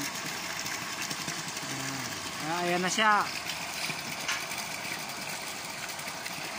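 Engine running an injector pump for water, a steady mid-pitched drone under someone talking, with a brief rising whine partway through.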